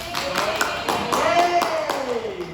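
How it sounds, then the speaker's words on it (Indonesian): Students in a classroom clap for a group after its presentation, a steady patter of hands that runs under a speaking voice. "Tepuk tangan dulu untuk kelompok 1."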